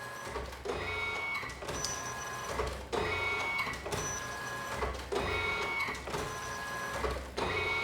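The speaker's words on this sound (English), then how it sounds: "it's transparent colored ribbons that are printing right now, and they're printing over each other" An Alps ribbon printer prints decals with transparent colored film ribbons layered over each other, giving repeated mechanical passes of whirring motor drive and clicking carriage movement, loud and close, cycling roughly every second with short pauses between.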